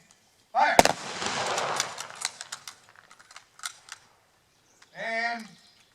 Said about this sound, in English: Legion firing squad, prepare to fire.